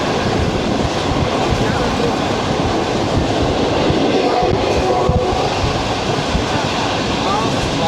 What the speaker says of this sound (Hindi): ट्रेन हमारी मुल्तान छावनी रेलवे स्टेशन के यार्ड में दाखिल हो चुकी है